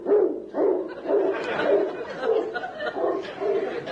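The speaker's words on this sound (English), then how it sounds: "It's only a dog." A dog barks repeatedly in a steady rhythm in an audio comedy, loud and close, with faint chatter in the background.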